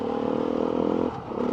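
A Beta 390 RR dirt bike with a road-legal standard exhaust rides a green lane, its engine holding a steady, close drone that dips briefly before picking back up.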